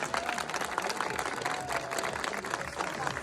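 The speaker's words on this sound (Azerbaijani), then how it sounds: "Bir motivasiya olsun deyə özümüzü ürəkdən alqışlayalım." Audience applause at a prize-draw event, a dense, steady patter of many hands clapping throughout, with faint voices mixed underneath.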